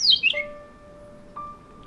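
A bird gives a few bright chirps and thin, sustained whistled notes, fairly close and clear against a quiet, still outdoor background.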